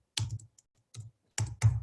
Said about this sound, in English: Having trouble hitting my keyboard.